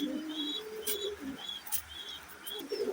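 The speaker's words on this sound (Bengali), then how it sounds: "ঠান্ডা লাগা কবুতরগুলো একটু দেখাই আমি আপনাদের।" Soft, repeated coos from pigeons sick with a cold roll low and near, with a few sharp clicks and faint chirps mixed in.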